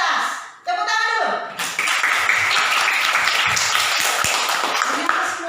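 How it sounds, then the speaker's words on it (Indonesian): Schoolchildren in a third-grade classroom clap together, starting after a voice and a brief pause, then a loud, steady burst of many small hands applauding that carries on to the end, with faint chatter. "Tepuk tangan dulu."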